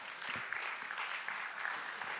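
Audience applause fills a church service, a steady wash of clapping from many hands that holds evenly from start to finish with no voices on top.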